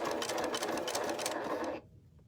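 Sewing machine running fast along the edge of a serged seam on a denim fanny pack, a steady close whir that stops abruptly near the end, leaving quiet.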